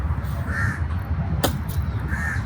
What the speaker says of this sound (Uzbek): Qarg'an eshitdim.